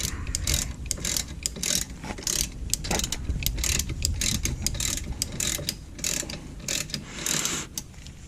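A ratchet tightens the rear brake caliper bolts on a 2016-2018 Honda Civic during a brake pad and rotor replacement, giving close, steady bursts of rapid metallic clicking with no talk.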